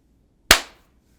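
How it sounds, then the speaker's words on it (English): A single sharp hand clap marking the start of a recording, close and loud with a quick decaying tail in an otherwise quiet room. "Clap for sound."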